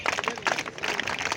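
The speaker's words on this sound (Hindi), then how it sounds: "स्वागत ताली बजा" Audience clapping in welcome at a Siddharth University Rovers and Rangers award ceremony, a steady patter of many hands through the whole moment, fairly close and unbroken.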